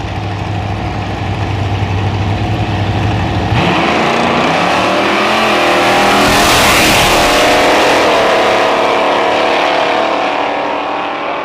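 Buick GSX drag car at a nostalgia drag racing event in St Thomas, Ontario: a loud, close engine idles roughly, then surges into a heavy roar with a sweeping, rising pitch that stays strong to the end.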